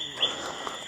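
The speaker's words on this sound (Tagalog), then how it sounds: "ba't ang lapit ng tulog ng ibon?" A bird calls at night on a mountain, two short high chirps a moment apart against a faint steady background hum, fairly close but quiet.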